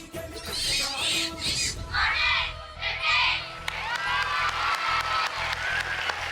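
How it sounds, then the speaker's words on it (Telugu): A studio audience on a Telugu TV game show cheers and shouts for a grandmother, then breaks into a steady, rhythmic clapping that carries to the end. "ఓకే, క్లాప్స్ కొట్టిన అమ్మమ్మకి."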